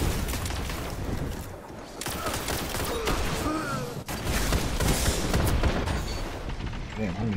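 Rapid gunfire crackles through a Destiny Zone Control match: dense, loud volleys of overlapping shots blend into an almost unbroken barrage with brief dips in intensity.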